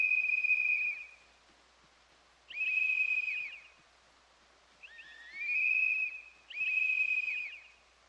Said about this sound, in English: that whistle won't reach the fence